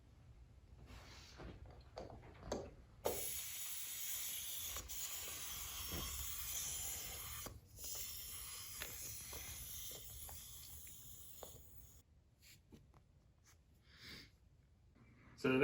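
Air hissing out of kart tire valve stems with the valve cores removed, heard as several bursts of hiss with quieter gaps between them, fairly faint and close.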